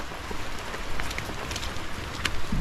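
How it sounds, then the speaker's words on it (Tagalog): Steady rain falls ahead of an approaching typhoon in Nueva Ecija, a continuous soft hiss with light scattered drops and some wind noise. No one speaks. "Umuulan na."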